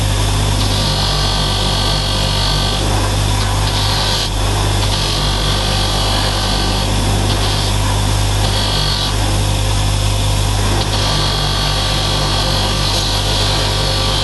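A power tool polishes rust stains off a metal surface, a loud continuous abrasive rubbing and grinding held steadily close up with slight pulsing, no talk.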